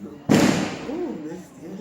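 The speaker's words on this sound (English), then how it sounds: "It's firecrackers, don't worry about it." A single sharp firecracker bang bursts out at a home celebration, followed by a decaying rumble while a person's voice rises underneath.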